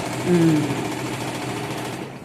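An Usha domestic sewing machine stitches in reverse, giving a steady, close mechanical whirring hum with a brief louder surge near the start, running continuously throughout.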